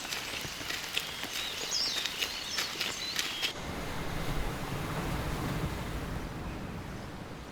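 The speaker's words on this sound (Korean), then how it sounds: "파도 소리 잘 들려요?" Surf washing onto a shore on a Jeju Island coast in wet weather, heard as a steady, fairly close wash of broad noise with a brief shift midway, wind buffeting the microphone and faint bird calls.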